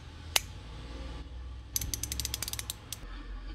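A dual-pawl socket ratchet, just reassembled, gives one sharp click and then a quick run of close, crisp ratcheting clicks in an irregular burst. No one speaks.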